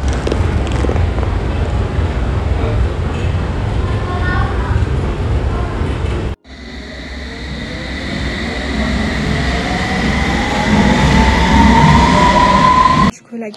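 A London Underground metro train in motion, heard from inside: a loud, steady rumble of wheels, a brief break, then resumed roaring travel with a rising metallic squeal of rails.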